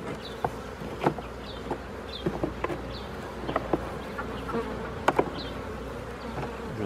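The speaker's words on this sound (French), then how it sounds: "les abeilles qui piquent comme ça, je supporte pas trop. C'est quand même un défaut de la Buckfast" Buckfast honeybees swarming around an open hive during a spring inspection, a dense continuous buzzing close by, with occasional light clicks and knocks from handling the hive.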